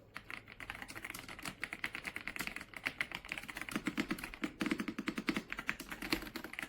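Rapid typing on an RK Royal Kludge R75 wired 75% mechanical keyboard produces dense, close clusters of soft, muted keystrokes in an uneven rhythm, heard alone without speech.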